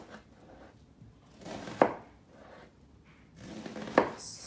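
Two distinct knife cuts through an onion along its seams land on a cutting board, each a crisp slicing crunch ending in a firm tap, close and isolated against near silence.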